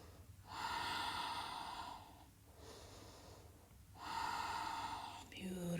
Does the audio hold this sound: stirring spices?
no